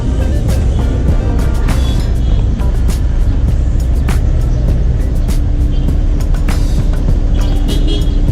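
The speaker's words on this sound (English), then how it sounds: "A lot of traffic this part of Yangon." Steady street traffic in Yangon, Myanmar, with a continuous roar of cars, buses and trucks, engine rumble and passing vehicles, plus scattered horn-like bursts and clatter, loud and close throughout.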